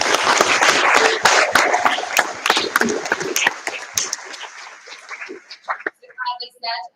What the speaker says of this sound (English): another round of applause for Eleanor